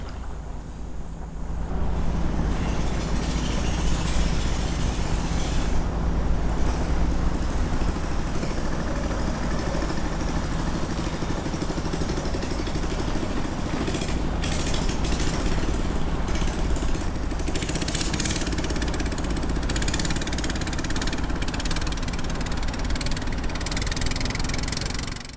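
A small rabeta longtail motor drives a boat along a river, a loud, constant droning chug that starts after a brief quiet moment and holds steady for about twenty seconds with no talking.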